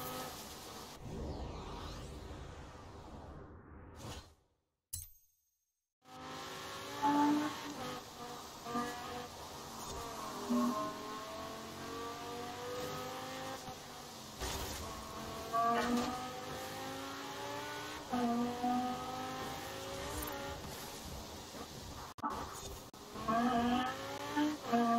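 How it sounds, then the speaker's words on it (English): A Lamborghini Huracan races in Forza Horizon 4, its engine note rising and falling through gear shifts with steady, loud revving that breaks off briefly near the start, then drones on with repeated climbing pitches. "Now I can't believe I'm racing this thing in a Lamborghini Huracan."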